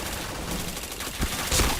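Rapid video-game gunfire, a chain of headshots, crackles as a continuous burst with a couple of louder shots near the end, fairly close and busy throughout.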